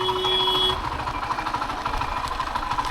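A car is driven out at a ferry jetty, with a steady engine idle and a repeating reversing beep at the start, fairly close, then a low rumble continuing alone.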